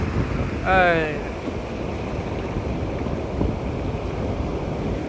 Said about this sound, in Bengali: এই যে এই ঢেউ এসে পাও ধুয়ে দেবে